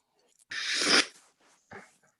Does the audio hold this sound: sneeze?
yes